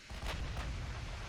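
Battleship turret guns firing in the naval video game Ultimate Admiral Dreadnoughts, two close booming blasts in quick succession over a low rumble.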